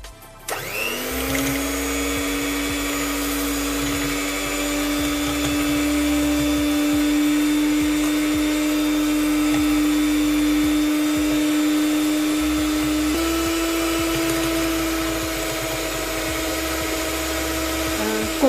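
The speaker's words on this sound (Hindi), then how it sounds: "कोशिश करें कि आपका एग बीटर जो है वो आपके बर्तन के साथ ना लगे, बाउल के साथ ना लगे।" An electric egg beater whirs steadily and loudly as it beats granulated sugar in a bowl, a continuous motor drone that shifts pitch slightly near the end, with no talking.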